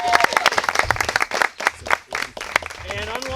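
Audience applause at a reality-show season 7 reunion event venue, a crowd clapping in a loud burst that rises and dips over a few seconds, with some voices mixed in.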